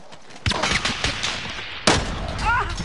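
Video game gunfire, sharp shots and bursts cracking out at irregular intervals, a couple of louder reports standing out, mixed with faint background game noise and no talk.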